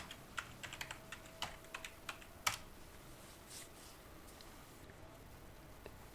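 A password is typed on a computer keyboard, a string of faint, irregular key clicks spread over several seconds against quiet background hiss.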